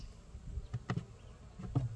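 Honey bees buzz at an opened hive during a honey harvest, close and fairly quiet, with short droning passes rising and fading over a low background hum.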